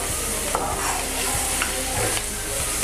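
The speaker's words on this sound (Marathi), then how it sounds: "आता आपला कांदो भाजून होता लालसर." Onion frying until reddish in a pan for a traditional Konkan colocasia-leaf bhaji, with a continuous loud sizzle and periodic scraping clicks of a stirring spoon.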